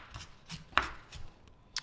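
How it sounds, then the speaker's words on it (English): A knife chops food finely for a salad with tuna on a cutting board, four or five quick, crisp taps spaced unevenly, close and fairly quiet. "So just chopping this really fine."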